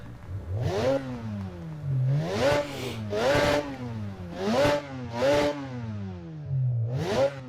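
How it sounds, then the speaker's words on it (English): A car engine in an Assetto Corsa VR mod revs repeatedly, rising and falling in pitch in several throttle bursts, loud and close with a synthetic game-like tone. "So let us have a little listen to the engine sound."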